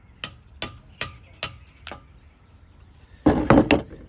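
An old cracked ball peen hammer strikes metal while a spreader base assembly is replaced on a San Juan 21 sailboat: five sharp, evenly spaced metallic taps, followed by a louder cluster of blows.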